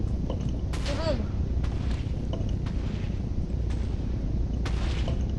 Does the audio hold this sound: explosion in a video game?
yes